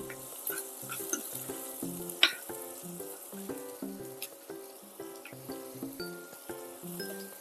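Green chillies sizzle and crackle gently in a pan of oil with cumin while rava upma is cooked, with faint clinks of a utensil and quiet music beneath.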